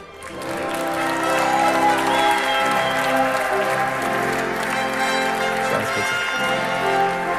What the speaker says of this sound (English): this was a big applause